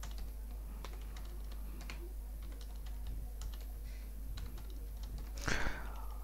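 Keys clacking as someone types salary figures into a spreadsheet, a run of light, irregular clicks over a steady low hum, with one louder burst near the end.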